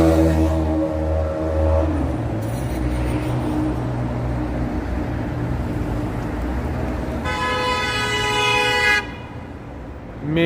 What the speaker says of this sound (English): Maybe instead of honking, maybe you should slow down, dude.